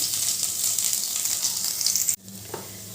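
Chopped garlic and black cumin sizzling in hot oil, a loud steady crackling hiss close up that cuts off abruptly near the end, leaving a faint low hum.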